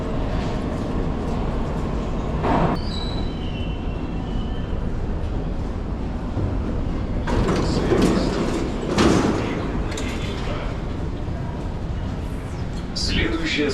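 A St. Petersburg metro train pulls into a station, its steady rolling rumble and rail clatter filling the platform, with brief sharp knocks and door sounds rising toward the end.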